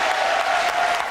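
A large crowd at Sacred Heart Church in McAllen, Texas, on the U.S.-Mexico border cheers and claps in a dense, steady roar as the Pope appears.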